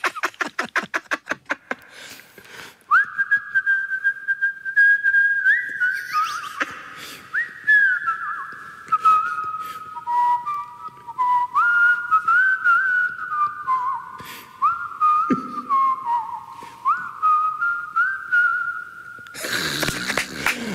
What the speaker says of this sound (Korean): 휘파람은 할 수 있잖아요.